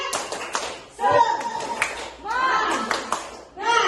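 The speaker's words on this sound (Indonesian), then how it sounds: "Kita tepuk semangat Bapak." A group of teachers at an elementary school workshop does a rhythmic spirit clap, with bursts of patterned clapping mixed with voices chanting and speaking in between, close and fairly loud.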